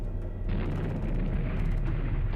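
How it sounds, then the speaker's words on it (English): Heavy artillery bombardment from the Korean War, a continuous deep rumbling roar of overlapping explosions with low booms rolling steadily throughout, dense and loud with no clear gaps. "Ripper began with the largest artillery bombardment of the Korean War."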